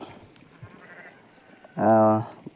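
A large sheep gives a single loud, close bleat lasting about half a second on a farm, with quiet background noise and faint movement around it.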